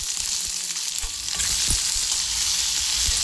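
Onion and garlic sauté in hot oil in a pan for a Tamil pirandai thuvaiyal, a continuous loud sizzle with a few stirring scrapes and knocks, no voices.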